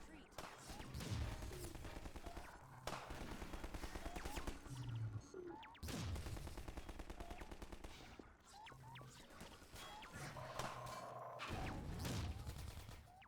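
Sniper and automatic gunfire in the first-person shooter Half-Life 2: Episode One, dense bursts of shots and loud crackling impacts running steadily throughout, with voices talking over the combat.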